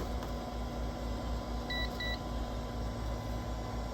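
Two short, clear electronic beeps from the timer of a sublimation tumbler press for a 20 oz skinny tumbler in a 3D vacuum oven, sounding over a steady mechanical hum.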